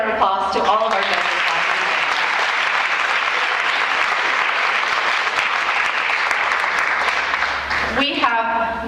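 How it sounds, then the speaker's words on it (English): An audience at an Academic Decathlon awards night applauds the judges, loud, sustained clapping filling the room, with a voice speaking briefly at the start and again as the ovation fades near the end. "please give a round of applause to all of our judges"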